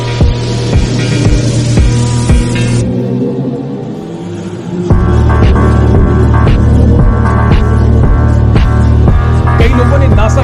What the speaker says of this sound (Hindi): नासा की ओर से जारी किए गए ब्लैक होल की आवाज में लोगों को ओम की ध्वनि सुनाई दे रही है।